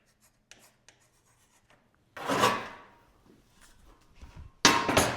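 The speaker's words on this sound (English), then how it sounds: "So we'll write that number down." Pencil writing down a measurement by hand in a quiet workshop: a few faint taps, then two bursts of close, scratchy scribbling strokes with a pause between them.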